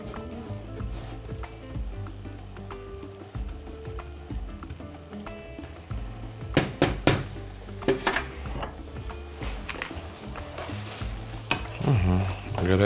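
Chicken frying in a pan gives a busy, crackling sizzle under music, with repeated clattering knocks of a utensil against the pan.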